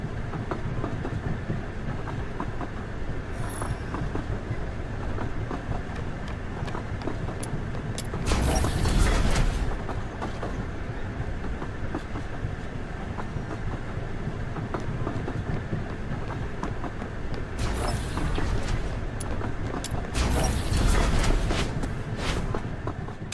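A train rolls steadily through the game world of Duet Night Abyss, a continuous rumble with clickety-clack of wheels, swelling louder in a few bursts, with no talk over it.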